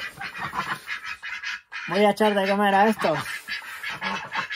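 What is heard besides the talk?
ducks on a snowy farm being fed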